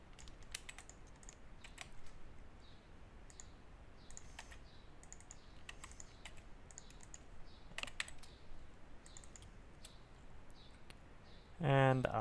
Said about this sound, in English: So here I will just type in my store name